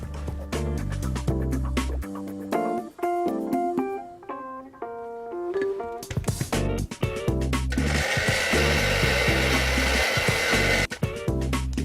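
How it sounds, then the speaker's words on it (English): A blender purees strawberries with sugar, a loud, steady whirring roar that fills the last few seconds after a stretch of background music. "for the strawberries, you just want to blend these with the sugar"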